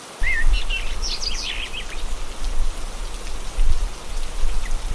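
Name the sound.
rain falling on crops in a cartoon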